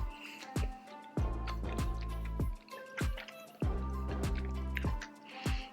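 Broth drips steadily from a pierced pork and ginger soup dumpling, a close series of wet drops and squishy plops, fairly loud with no talking.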